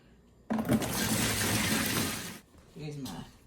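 Hot water gushes loudly into a washing machine drum for about two seconds before cutting off, followed by a short gurgle, as pants are prepared for dyeing.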